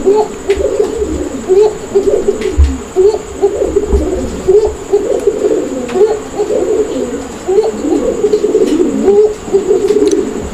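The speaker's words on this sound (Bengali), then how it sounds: "তো চলুন আমরা এই কোকাটাকে একটু ডাক দেওয়ার চেষ্টা করি, যে এটা কীরকম ডাকে।" A pair of bright red Koka pigeons coo in soft, repeated low rolling calls, close and clear, overlapping in a steady rhythm throughout.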